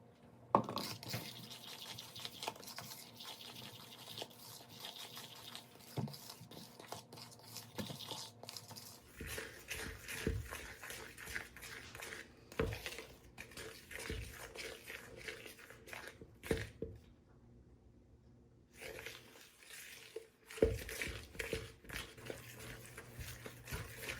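Oatmeal raisin cookie batter being mixed by hand in a bowl, giving irregular scraping and clicking strokes that stay fairly quiet and steady, with a few louder knocks of the utensil against the bowl.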